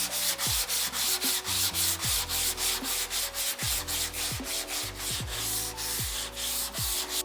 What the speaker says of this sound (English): And now we're finishing with 320 grit.